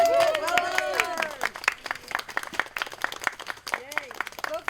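Applause and scattered clapping from a small outdoor group at a lakeside Earth Day waterfront cleanup, with voices cheering and talking over the claps throughout.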